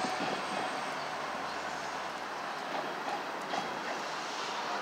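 A slow northbound Union Pacific manifest freight train rolls past with a steady, moderately loud rumble and hiss of wheels on rails. Faint clicks and squeals rise briefly near the end.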